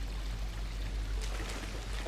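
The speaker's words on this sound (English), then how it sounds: "The water is flowing over natural stone." Water flows steadily over natural stone in a channelled underground sewer in the video game Dishonored. The rushing and trickling wash is continuous and fairly faint, with no voices.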